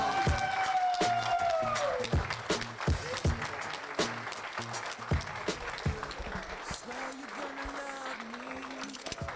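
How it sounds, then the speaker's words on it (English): An award ceremony audience breaks into loud applause and some cheering, sustained clapping with a high tonal sound sliding down over the first seconds, then the applause thins toward the end while a voice sits faintly underneath. "One more final applause for Gideon."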